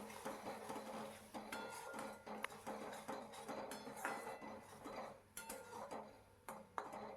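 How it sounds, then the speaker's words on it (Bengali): Ivy gourd curry being stirred in a pan, with a metal spoon scraping and clinking against the pan in steady, busy strokes throughout, and no talking. "ভালো করে নাড়ি চাড়িয়ে নিলাম"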